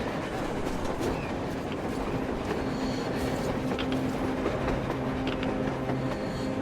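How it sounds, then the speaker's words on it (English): A train in the video game Metro Exodus rumbles steadily along the rails, with a constant low roar, faint clacking and a tonal hum, no pauses throughout. "A train! A damn train on the surface!"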